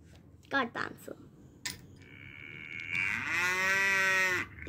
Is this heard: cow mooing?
yes